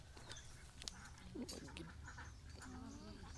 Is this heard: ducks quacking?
yes